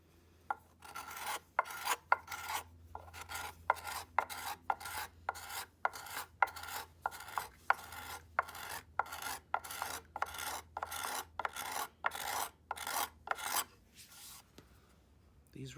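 A scraper repeatedly rasps across the bowl of an industrial-sized wooden spoon, producing close, steady strokes about once per second, each a dry scraping burst, running without pause.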